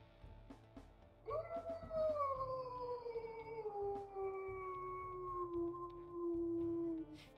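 A timber wolf in a video game gives a single long mid-toned howl that rises, then slowly glides downward and holds for several seconds, heard alone and close.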